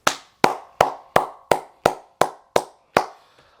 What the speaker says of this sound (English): rounds of applause for sure